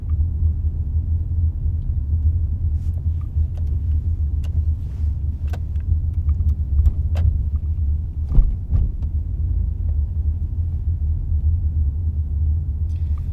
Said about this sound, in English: Mainly sitting in traffic.